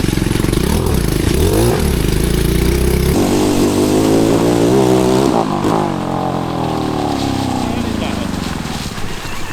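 A cheap 250cc five-speed engine on a go kart runs loudly up close, revving and shifting with a rough buzzing drone, then sputters and winds down as it dies; voices shout over it.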